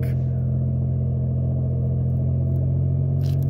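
A 2024 Mitsubishi Mirage's small engine strains as the car pulls away from a stop on an extremely steep hill, a steady close low drone and rumble holding without a break.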